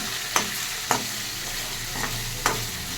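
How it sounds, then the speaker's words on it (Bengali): Vegetable chachchari sprinkled with kasuri methi is stirred in a hot pan, with a steady close sizzle and four sharp scraping strokes of the spatula spaced unevenly, and no voices. "এবার নাড়াচাড়া দিয়ে দিচ্ছি ভালো করে।"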